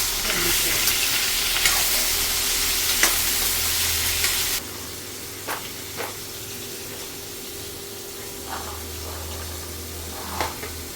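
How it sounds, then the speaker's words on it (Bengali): Potatoes frying in hot oil with turmeric and salt for a village-style matar paneer dish; a loud steady sizzle that drops abruptly to a quieter crackle, with occasional stirring clinks. "এখন এগুলো ভাজিয়ে নেবো। হলুদ লবণ দিয়ে একটা ভাজ।"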